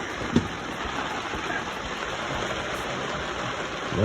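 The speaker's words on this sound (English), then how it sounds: "Love the sound of rain." Rain falling steadily outdoors, a dense, even hiss of drops on surfaces with a single brief knock near the start, fairly loud and continuous with no talk.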